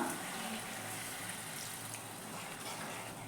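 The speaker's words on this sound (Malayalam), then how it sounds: "ഒരു 1/4 ഗ്ലാസ് വെള്ളം കൂടെ ഇതിലേക്കൊന്ന് ചേർത്ത് കൊടുക്കാം" A quarter glass of water pours into onion roast in a pan, giving a steady, close liquid gush that keeps up without a break for a few seconds, with no voices over it.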